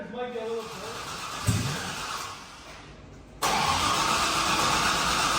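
A 6.0-litre LS V8 cranks over in bursts, a brief catch and then a steady loud rumble as it fires, with people talking nearby.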